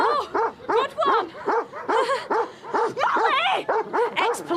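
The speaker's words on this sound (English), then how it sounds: "Ex-police dog, apparently." An ex-police dog barks loudly and close by in a steady, rapid series of about a dozen sharp barks, with brief gaps and some higher yelping tones mixed in.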